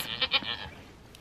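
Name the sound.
goat bleating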